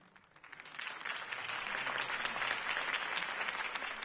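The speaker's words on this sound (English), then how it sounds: "could have heard that applause" Dense crowd applause in the video game Batman: The Telltale Series swells in quickly and holds at a steady roar of many hands clapping, somewhat distant and even throughout.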